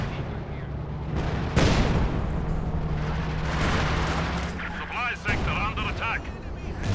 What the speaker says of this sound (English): Oh, it's this barrage, maybe.